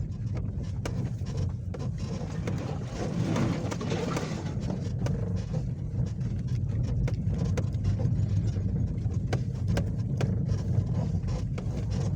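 An ordinary passenger car driven over rough mountain terrain at night among bushes, with a constant low engine rumble and scattered rattles and knocks from bumps along the way.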